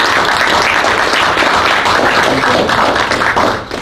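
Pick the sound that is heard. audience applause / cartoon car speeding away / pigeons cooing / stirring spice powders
audience applause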